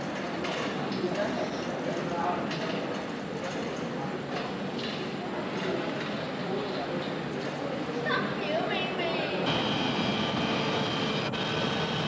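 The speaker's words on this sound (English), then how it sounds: "We're about to take off." A small seaplane's aircraft engine drones steadily and loudly in Fiji as the plane prepares to take off from the water, a constant roar filling the whole stretch.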